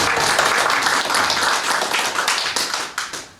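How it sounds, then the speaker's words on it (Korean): A church congregation at a Sunday worship service claps to welcome a new member, a steady patter of many hands that tapers off into a few separate, fading claps at the end. "박수로 환영해 주시기 바랍니다."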